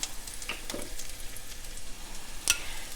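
Ground beef and Italian sausage fry in a pan with a steady close sizzle, broken by a few scraping stirs and a sharp clink near the end, with no talking.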